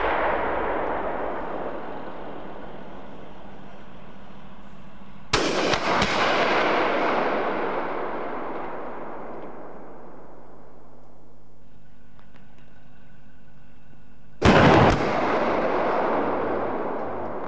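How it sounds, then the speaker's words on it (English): Two 120mm HE-T tank rounds fire and strike targets, a minibus and a container reinforced with 10mm armor plate, each a sudden loud boom followed by a long, fading rumbling decay, with no talking. "Now the 120mm HET with impact action against a minibus, and then against a container reinforced with 10mm armor plate."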